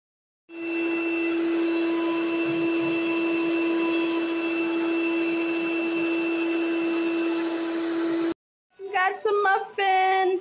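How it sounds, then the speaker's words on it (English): An electric kitchen mixer being set up for baking muffins and cupcakes whirs at a steady, loud, constant pitch for about eight seconds, stops abruptly, and then a voice speaks. "I am just getting my mixer ready so that I can start making like muffins, cupcakes"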